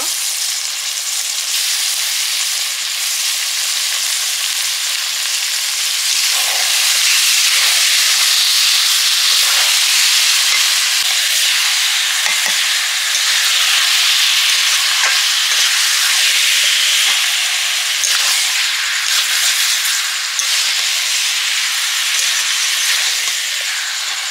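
Meat sizzles loudly with spices in a hot pan as it is fried down for a Bengali curry, a dense, continuous hissing crackle lasting throughout, with occasional faint stirring scrapes and no voices.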